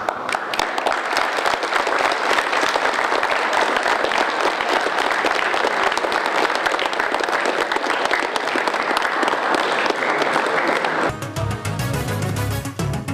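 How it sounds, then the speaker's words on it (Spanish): Loud, sustained applause from a crowd of police colleagues at a government event in Orellana, steady dense clapping for about eleven seconds before it thins and a brief burst of music takes over. "Les vamos a despedir a ustedes con un fuerte aplauso de los compañeros que nos quedamos acá"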